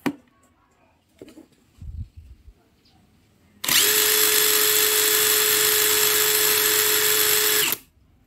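A Stanley Fatmax SBW910M1K cordless impact wrench spinning freely for an RPM test, a loud steady high whine for about four seconds that cuts off abruptly, preceded by quiet handling sounds and brief speech.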